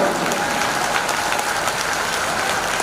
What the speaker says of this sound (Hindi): कमजोर ताली बजा रहे हैं